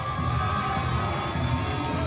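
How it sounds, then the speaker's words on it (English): A cage-fight crowd cheers and shouts loudly and continuously, a dense roar filling the whole moment. "Armstrong getting the crowd going"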